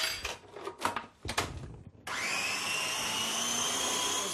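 Food processor chopping chicken and onion for Indian-style chicken croquettes, kicking in abruptly as a loud, steady whirring blade drone after a few knocks and clatters of handling.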